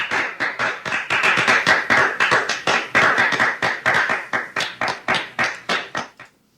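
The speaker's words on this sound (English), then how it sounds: "that was actually the sound of bears clapping" Rapid, steady clapping by a group, jokingly presented as Russian bears applauding in the cold, with dense overlapping claps running nearly seven seconds before slowing and fading at the end, no talk.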